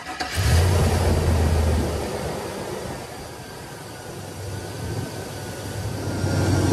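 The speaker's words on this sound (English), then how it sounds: "I'm gonna take the surge cap off and start the engine and let it run for a minute." A 2002 Chevrolet Silverado 5.3L V8 with the coolant surge cap off cranks and starts, then settles into a steady low idle, close by and without talk.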